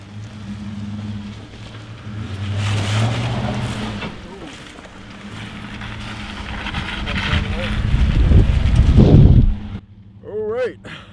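A four-wheel-drive truck pushing through water, a steady rumbling engine with broad splashing and rushing noise building louder toward the end before cutting off, with people talking over it.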